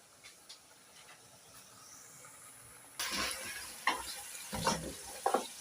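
Beef biryani with meat and spices cooks in a pot, giving a quiet steady hiss that turns into louder sizzling and scraping stirs partway through, with no voices.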